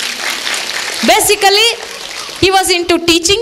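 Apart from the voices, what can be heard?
audience applause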